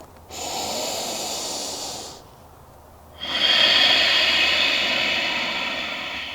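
Slow breathing in a yoga forward fold: a long, close airy breath, a brief pause, then a louder and fuller second breath that trails off gently.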